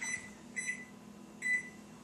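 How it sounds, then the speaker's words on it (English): A kitchen timer beeps three times, each a short, clear electronic tone separated by pauses, fairly quiet over a faint steady hum. "I'm going to start the kitchen timer"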